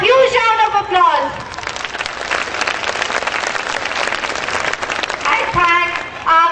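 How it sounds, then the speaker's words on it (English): Applause for the students at a school program, a loud crowd clapping in a sustained wash that fills the middle, framed by a speaking voice at the start and end. "Please give them a huge round of applause."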